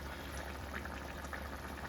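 Country chicken curry simmers under a lid in a covered pot, giving a soft, steady bubbling hiss that stays even and fairly quiet throughout.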